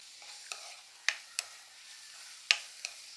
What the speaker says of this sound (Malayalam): ഇതൊന്ന് നന്നായിട്ട് വഴന്നോട്ടെ.